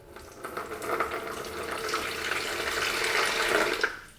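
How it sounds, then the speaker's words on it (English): Water pours into a bowl for turmeric and ginger pizza dough, a steady splashing trickle that builds gradually and stays near and moderately loud, with no talk. "So let's start to put the water."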